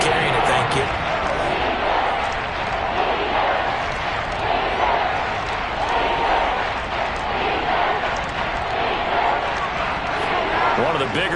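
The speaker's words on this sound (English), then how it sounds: "The crowd getting into it as we come up on a big third down" Stadium crowd at an American football game roars steadily ahead of a big third down, a dense, continuous wash of cheering without pauses.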